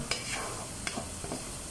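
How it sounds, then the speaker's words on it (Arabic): Two onions fry in a pan, a faint, even sizzling hiss with a few soft pops and stirring clicks, heard close but quiet, with nobody speaking. "هنحط بصلتين وهنحمرهم يعني نص تحميرة كده مع بعضينا"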